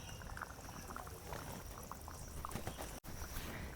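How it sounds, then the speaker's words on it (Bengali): Raw mustard oil is poured from above over a Padma river hilsa fish curry in mustard sauce. A soft, quiet trickle and bubbling continue for a few seconds, with a brief break near the end. "ওপর থেকে 2 চামচ কাঁচা সর্ষের তেল দিয়ে দেব"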